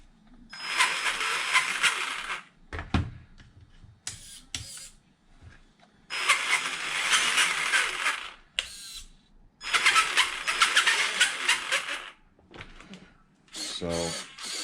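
Differentials and motor of a Traxxas Summit RC truck whine in three loud bursts of about two seconds each, separated by short pauses and brief clicks, close up with no talk.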